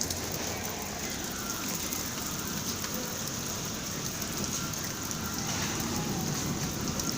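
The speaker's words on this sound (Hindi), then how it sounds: "कितने सारे ओले गिरे हैं" Hailstones pelting outdoor stairs during a storm make a dense, steady patter like heavy rain, a constant close hiss of impacts that never lets up.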